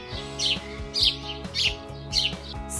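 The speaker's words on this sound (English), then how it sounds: "Sparrows have sweet, chirpy voices. Let's hear their cheerful song." A sparrow chirps in short bright bursts, about four evenly spaced phrases, close and clear over a steady tonal music bed.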